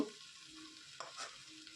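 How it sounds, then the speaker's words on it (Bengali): Rice and mixed vegetables get stirred together with ghee in a pressure cooker, a quiet, close sizzle with a couple of brief scraping strokes of the spoon. "প্রেশার কুকারের মধ্যে আমি সব সবজিটা দিয়ে চাল আর সবজিগুলো খুব ভালোভাবে মিশিয়ে নেব"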